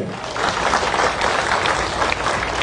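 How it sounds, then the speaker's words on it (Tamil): Audience applause at a live urumi melam drum troupe performance, steady dense clapping filling the room at full strength throughout, a continuous wash of hands without breaks. "இன்னொரு பலத்தை கைத்தட்டு"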